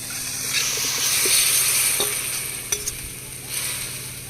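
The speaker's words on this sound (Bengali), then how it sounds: "কড়াইতে ম্যারিনেট করা চিংড়ি মাছ উচ্ছে আলু দিয়ে দেবো" Marinated prawns, bitter gourd and potato sizzle in a kadai, a steady close crackle broken by a few sharp clinks and scrapes of stirring, with no talk.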